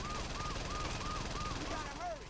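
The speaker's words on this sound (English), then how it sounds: "Is that bloody helicopter? It is." Helicopter in the video game Saints Row 2, a steady whirring rotor drone with repeating pulses, heard under a voice talking over game audio.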